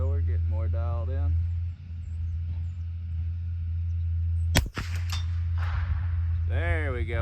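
Rifle shots striking a metal target at outdoor target practice: a sharp crack with a ringing clang around the middle, set against steady wind-like noise, with people talking before and after.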